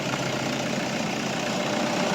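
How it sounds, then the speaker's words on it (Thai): A 2010 Toyota Vigo Smart Cab 2.5 pickup truck engine idles steadily nearby, a smooth continuous rumble with no voices. "เสียงเครื่องยนต์ดังนิ่มมากนะครับ"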